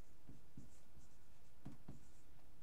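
A pen writing out a maths problem, with a few faint, close scratching strokes in short bursts against a low, steady hiss.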